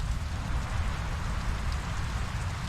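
Rain in the video game Draugen, a dense, steady downpour hissing on surfaces with a heavy low rumble beneath, constant and fairly loud with no voices.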